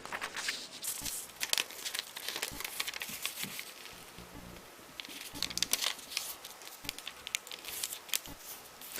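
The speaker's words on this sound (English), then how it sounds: "we want to take this paper and we're going to fold it in half this way" Square sheet of origami paper being folded in half for a crane, giving close, busy crinkling and rustling with scattered sharp crackles and brief creasing snaps throughout, no voices.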